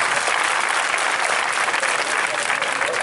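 Dense audience applause fills the hall at a political meeting on Togo and ECOWAS, a loud, even wash of many hands clapping that holds steady without a pause.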